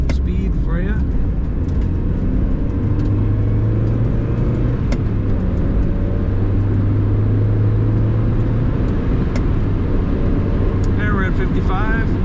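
A 1999 Mazda MX-5 Miata picks up speed on the road, its engine droning steadily with rising revs under loud, constant road and wind rumble, close and continuous throughout.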